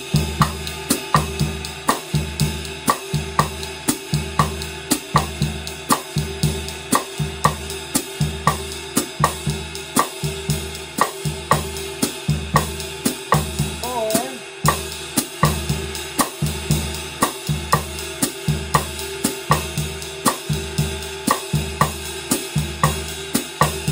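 A drum kit plays a bossa nova groove with a son clave pattern, a steady repeating loop of bass drum and hi-hat pulses with cross-stick clicks, close and loud throughout, without talk.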